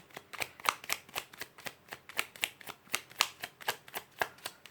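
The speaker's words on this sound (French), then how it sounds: "Je vais mettre 3 cartes." Tarot cards laid out one by one on a table, a steady run of crisp, close card flicks and slaps, about three to four per second, with no talking.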